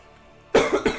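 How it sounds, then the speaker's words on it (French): A couple of quick, close coughs, abrupt and harsh, following a moment of near silence. "Je tousse."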